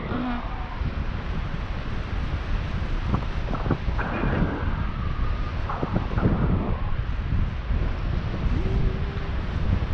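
Steady wind rushing across the microphone, with faint passing motion sounds and brief tonal bits underneath, continuous throughout.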